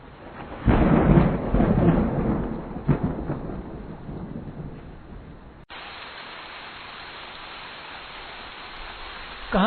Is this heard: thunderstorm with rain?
yes